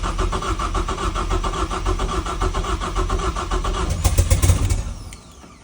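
BMW E36 with a swapped EcoBoost engine cranking and catching, settling into a steady, loud running rumble up close before the sound cuts off near the end.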